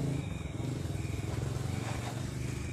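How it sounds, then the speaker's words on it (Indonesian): A motorcycle passes by on a road in Flores, its engine a steady, loud, rattling drone that holds for several seconds with no pause. "Itu motor lewat."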